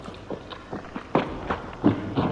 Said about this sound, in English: While footsteps below you sound sharper and hollower.